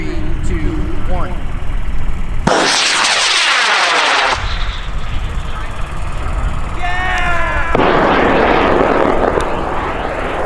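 A high power rocket launches at a large rocket event. A loud, broadband roar of the motor burn surges in partway through and holds for a couple of seconds. It sits over constant outdoor wind and crowd noise, with a later hiss-like rush.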